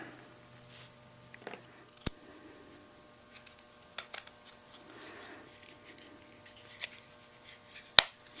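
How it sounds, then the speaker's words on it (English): Excess material being cut off a pommel holster, a handful of sharp, isolated snips and clicks spaced seconds apart over a quiet background, close and fairly faint. "go ahead and cut off the excess on here"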